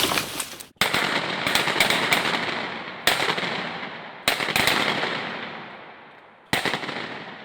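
Loud shotgun blasts during a snowy, icy waterfowl hunt: four sharp reports spaced a second or more apart, each followed by a long decaying echo across open ground, with no talking.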